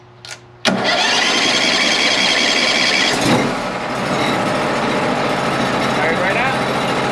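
A sawmill's engine, left unstarted for a while, cranks briefly then catches and settles into a steady, loud idle that runs to the end with little change.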